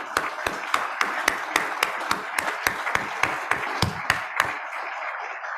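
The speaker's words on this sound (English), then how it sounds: "Let's give you a round of applause." Applause at a hybrid meeting for new Foundation Board trustees, heard as sharp, evenly spaced claps in a steady rhythm, close and fairly loud, stopping abruptly near the end.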